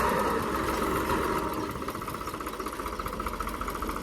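A tractor working a field with a rotavator attached runs with a steady, loud mechanical drone. Partway through, the engine settles into a quicker, regular pulsing throb, and no one speaks.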